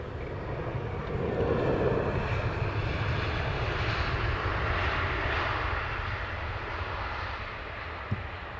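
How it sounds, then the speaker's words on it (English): Jet airliners landing and departing at Heathrow Airport in the evening, a steady broad roar of engines that swells and holds for several seconds without any talk. "Now we have the mixture of landing and departing, guys."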